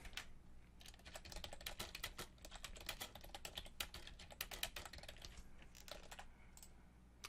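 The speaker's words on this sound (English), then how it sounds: "we'll just type something in" Steady, fast typing on a computer keyboard, a dense run of close, crisp key clicks with small pauses, heard alone without any talk.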